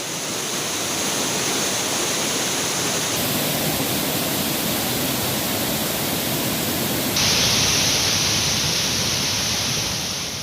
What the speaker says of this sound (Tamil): கனமழை காரணமாக கம்பம் சுருளி அருவியில் கரை புரண்டோடும் வெள்ளம்.